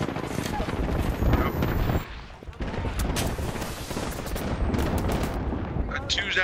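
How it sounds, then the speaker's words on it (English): Airstrike explosions in the Apex Legends video game, a dense stretch of booming blasts and crackling gunfire, with a brief lull partway through. Speech is faint underneath. "Airstrike, is that yours?"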